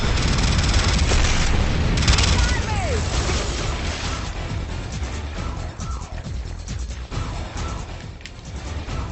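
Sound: rocket launcher explosions in a video game

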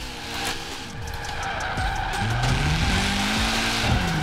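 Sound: car drifting and tire squeal in video game Forza Horizon 4

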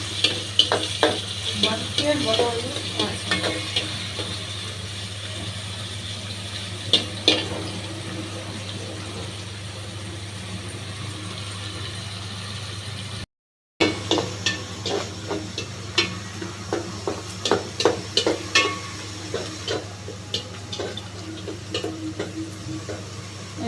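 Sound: onions, chilies and dried shrimp frying in a pan

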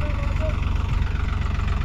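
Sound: tractor engine idling

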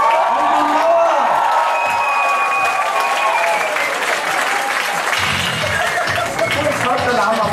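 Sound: audience applause at a ball

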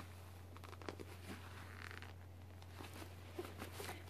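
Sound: zipper being opened on a camera bag

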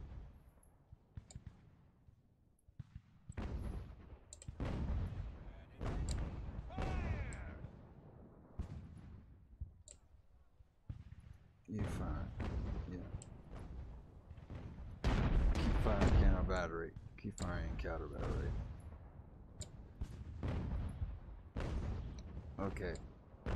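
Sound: ship cannon fire in Ultimate Admiral Age of Sail video game

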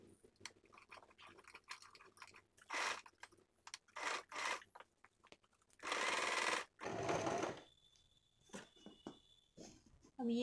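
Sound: sewing machine stitching a blouse piece

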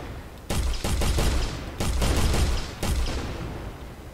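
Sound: gunfire in an Unreal Engine game test

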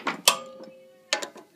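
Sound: 10 mm socket wrench on a mini bike bolt

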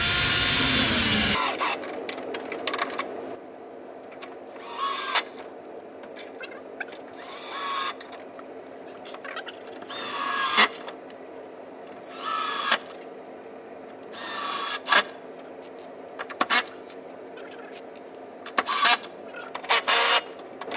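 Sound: bolts being driven into a corner TV wall mount

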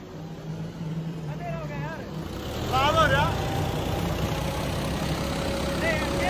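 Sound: John Deere tractor engine idling

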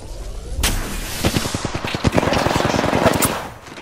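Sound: gunfire in Apex Legends video game

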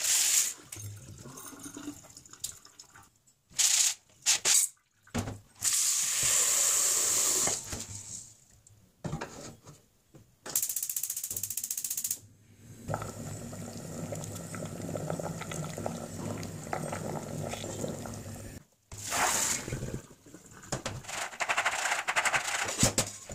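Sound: draining beans with water

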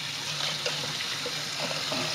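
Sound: cold tap water rinsing out a turkey

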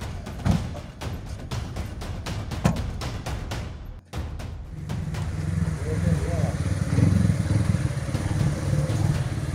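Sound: motorcycle engine running

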